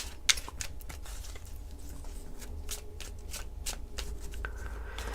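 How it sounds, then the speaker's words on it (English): Tarot cards are shuffled by hand in a steady stream of soft, rapid riffles and slaps, close and quiet, with a low room hum underneath and no talking. "I'm not going to fast forward through my shuffling."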